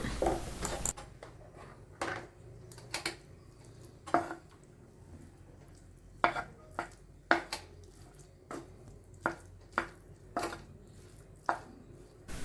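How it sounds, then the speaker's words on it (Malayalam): Tomato rice with tomato paste being stirred in a pan, heard as a series of separate utensil knocks and scrapes against the pan at an uneven pace, fairly close, with no talking. "ഇത് ഇട്ട് കൊടുത്തിട്ട് നമുക്ക് നന്നായിട്ടൊന്ന് ഇളക്കാം"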